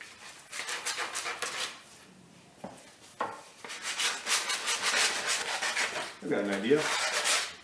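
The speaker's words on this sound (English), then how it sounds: "on the back side here, all up and down that edge, let's sand that and make it smooth" A child sands the wooden neck of a homemade electric guitar, producing rhythmic rubbing strokes back and forth in bursts, close and moderately loud, with brief talk between passes.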